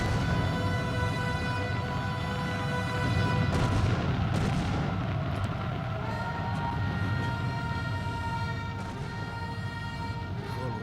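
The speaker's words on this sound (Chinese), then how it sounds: "哪来的炮声？" Deep booming cannon fire rumbles continuously under a sustained musical score, with heavy low thuds rolling through the whole stretch.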